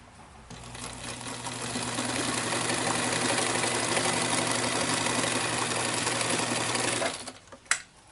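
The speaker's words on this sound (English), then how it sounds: "sew backward slightly just to catch the top of the pouch, not so much to lock the stitch" Sewing machine stitching a denim pouch runs steadily and close for about seven seconds, a continuous mechanical whir with even rhythm, then stops with a brief click.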